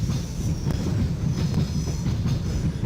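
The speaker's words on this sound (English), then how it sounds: "Great sounds when going over the switches," Train wheels in the OpenBVE train simulator clack rhythmically over switches and points with a steady rolling rumble, a few sharp clicks standing out, close and continuous.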